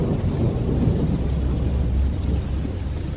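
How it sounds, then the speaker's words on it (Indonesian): Drizzling rain with low thunder rumbling, a steady, loud and continuous wash of rainfall over a deep rolling roar, heard alone with no voices, used as a horror-story sound effect set at a roadside food stall at night. "Hujan gerimis mulai turun."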